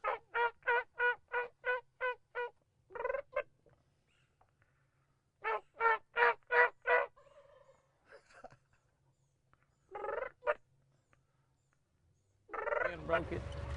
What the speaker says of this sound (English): See if we can make him gobble.